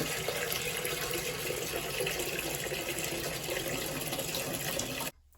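Water gushes from a kitchen tap into a pot being filled for boiling pasta, a steady, close rushing stream that runs evenly and then cuts off abruptly near the end.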